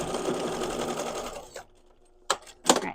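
A sewing machine bastes quilted tote bag pieces with flex foam, a fast close whirring run of stitches that stops, followed by a couple of short mechanical clicks and bumps.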